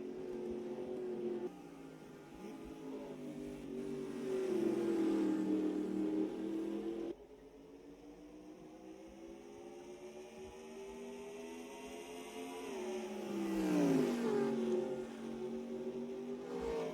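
Race cars in the American PROCAR Series run a racetrack, engines rising and falling in pitch through gear changes as they accelerate, with distant multiple-car whine at moderate level.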